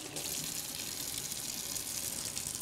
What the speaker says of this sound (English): So let me wash the meat.